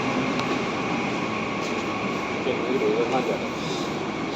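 A local train runs at night with a steady, loud rumble of wheels and carriage noise and a faint squeal, while people talk over it.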